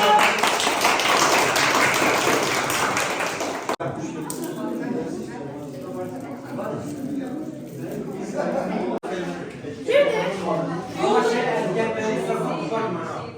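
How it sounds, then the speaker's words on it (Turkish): An audience claps loudly and densely for a group of performing students. The applause stops after a few seconds and gives way to a person speaking, with scattered background chatter. "Alkışlayın."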